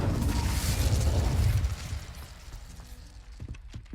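A burst of fire from the Incendio spell in Hogwarts Legacy: a loud, rumbling whoosh that swells for about a second and a half, then fades into quieter scattered crackles and small pops.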